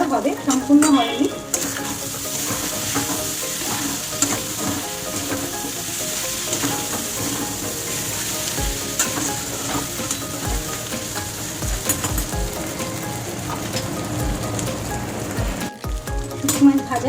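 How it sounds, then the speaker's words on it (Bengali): Dried fish (shutki) fries with garlic, salt and turmeric in a pan and is stirred. A loud, continuous sizzle carries on throughout, with intermittent scraping and clattering from the stirring. "শুটকি মাছ ভাজা আমার কিন্তু হয়ে গেছে"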